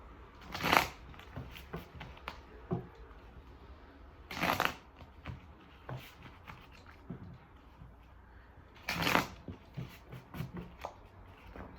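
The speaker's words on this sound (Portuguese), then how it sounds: "Eles pediram para eu embaralhar mais." Tarot cards being shuffled by hand in three distinct bursts of riffling and flapping, separated by quieter stretches of soft card handling, close and moderately loud with no talking.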